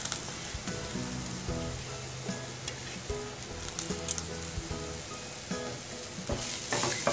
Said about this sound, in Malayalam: ഇനി ഇത് നന്നായിട്ടൊന്ന് വഴറ്റിയെടുക്കാം